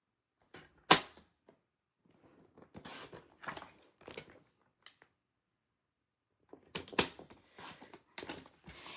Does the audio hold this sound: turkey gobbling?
no